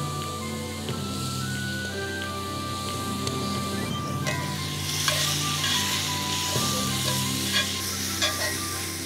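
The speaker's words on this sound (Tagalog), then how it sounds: "gigisa na natin yung ating mga aromatics" Aromatics sautéing in a hot pan, a continuous sizzle and crackle with occasional stirring scrapes, steady and close, with faint voices in the background.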